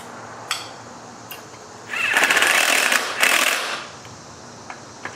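A small low-voltage impact driver hammers in two rattling bursts of roughly a second each on a Stihl MS400 chainsaw, close up, with a few light clicks and taps from the work before and after.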